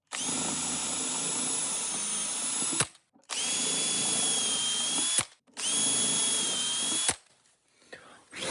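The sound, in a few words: drill boring holes in plywood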